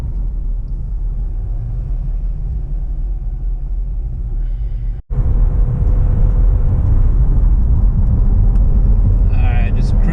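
C6 Corvette engine cruising in 6th gear, a loud continuous low drone inside the cabin with a brief dropout midway, then resuming slightly stronger.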